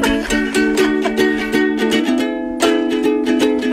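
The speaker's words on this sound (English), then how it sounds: "I'm going to play a chord progression on the ukulele." Ukulele strummed through a chord progression, bright plucked chords struck in a quick rhythm, close and clear, with a change of chord partway through.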